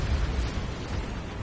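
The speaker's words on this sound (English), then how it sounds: "we're getting some nice hits here of our Hellstorm rocket batteries" Hellstorm rocket batteries pound enemy lines in a Total War: Warhammer battle, a dense, continuous low rumble of overlapping explosions rolling on without pause, steady and somewhat distant.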